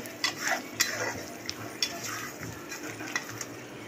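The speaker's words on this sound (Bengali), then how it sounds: "এখন মশলার সাথে ঝিঙ্গা, আলু ভাজা এগুলো এখন ঢেলে দেওয়া হবে" Fried ridge gourd and potato tipped into masala in a pan and stirred, giving a run of scattered spoon scrapes and light clinks over a soft background hiss, fairly close.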